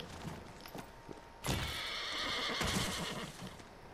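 A horse in the video game Ghost of Tsushima gives a sharp, loud whinny mid-clip, preceded and accompanied by soft hoof clip-clops, with no talk.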